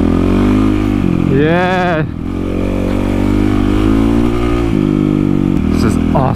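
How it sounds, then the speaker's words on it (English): A motorcycle being ridden along an open, quiet route, its engine droning loud and close with rising and falling revs and a brief throttle swell, plus steady wind rumble and a short spoken exclamation. "Freaking love this bike."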